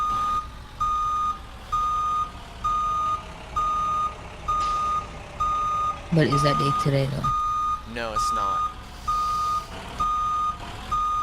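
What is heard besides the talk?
school bus reversing with backup beeps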